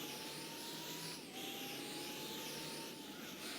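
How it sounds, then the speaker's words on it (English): Car engine in Gran Turismo 4 drones with a steady, airy, vacuum-cleaner-like whine, pitch dipping briefly midway before holding, continuous and fairly quiet over the whole span. "This car actually does sound like a vacuum cleaner."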